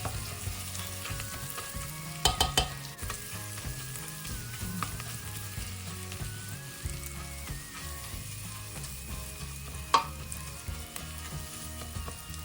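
Panang curry paste is stir-fried in a pan, a steady sizzle broken by sharp scraping and clanking of the utensil against the pan, close and loud.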